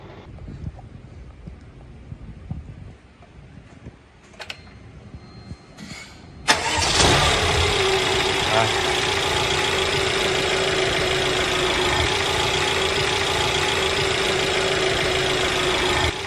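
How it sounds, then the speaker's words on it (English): After a few quiet seconds of faint clicks, a Mercedes car engine cranks and catches, then settles into a steady, loud idle that continues to the end, with its faulty fuel pump module replaced. "when we start the engines, it's no longer shut down after 10 seconds"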